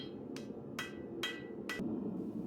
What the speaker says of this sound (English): Another technique I used was placing the edge of the blade on the horn while using the rounded face of the hammer to beat on the clip point